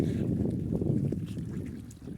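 Wind gusting steadily over a boat on the Jamuna river on an overcast day, a continuous low rushing roar close to the microphone, easing slightly toward the end.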